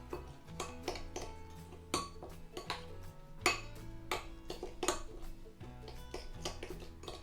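Ingredients being mixed together in a dish, with repeated clinks and taps of a utensil against the bowl in an uneven rhythm, close and fairly quiet.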